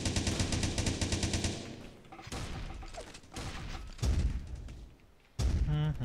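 Shotgun blasts and rapid gunfire ring out in the blocky first-person shooter game Blockstorm, coming as loud bursts and a rattling volley, with a pause and a final burst, under faint talk.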